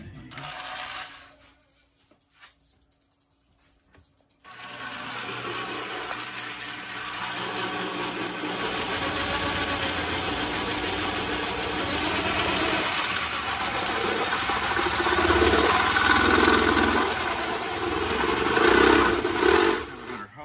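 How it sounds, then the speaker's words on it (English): A power drill bores a hole for a cheap cold air intake kit on a Ford 300 inline-six in a bullnose Ford truck, whirring steadily and loudly for about fifteen seconds after a short quiet start. "I'm gonna drill this right here and put this in so I can put my pipe on this side"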